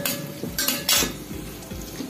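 Raisins and cashews fry in a pan for Bengali sweet pulao, with a spatula stirring them in a few scraping, clinking strokes over a soft background sizzle.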